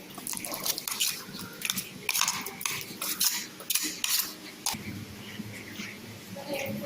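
A spoon scrapes and clinks against a bowl in a quick series of short strokes, transferring freshly ground coriander chutney, with faint background noise and a brief voice near the end.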